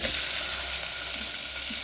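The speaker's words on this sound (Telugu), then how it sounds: "పల్లీలు, పెసర్లు, బొబ్బర్లు అన్ని రకాల ఇవన్నీ కూడా నానబెట్టాను. సో వీటిని తాలింపు వేస్తున్నాను." Soaked peanuts, moong and cowpeas tempered in hot oil, producing a loud, continuous dense sizzle and hiss close up, steady throughout with no voices.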